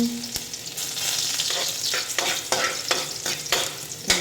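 Garlic sautéing in a hot pan, a close, steady sizzle broken by sharp clicks and scrapes of stirring at irregular intervals, with no talk.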